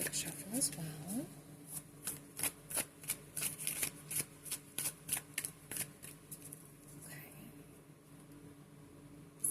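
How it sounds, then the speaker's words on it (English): Tarot cards from a World of Warcraft deck being shuffled by hand, a quick run of crisp, rhythmic riffling snaps close up, with no talking. "So we're going to clarify these with the World of Warcraft Tarot. Give these a quick shuffle as well."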